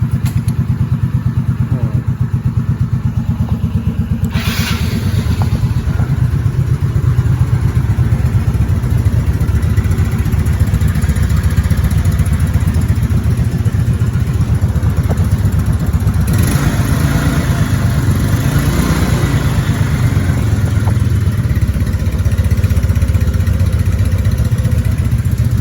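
A 2007 Yamaha Mio Sporty motorcycle engine runs steadily and loudly nearby, a continuous low hum that holds at an even idle throughout.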